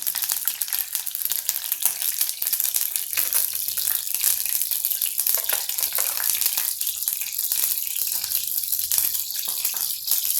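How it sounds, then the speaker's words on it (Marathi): Cumin seeds and asafoetida sizzle in hot oil in a pan, a steady, bright crackling hiss that stays even and close for the whole stretch, with no talk over it. "हिंग जिरं छान तळून वर आलं"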